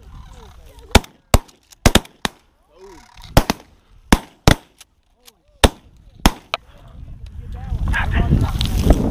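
Shotguns firing while hunting geese, with a series of sharp, loud blasts in irregular bursts among honking birds and shouting hunters, then rising wind and rustle at the end.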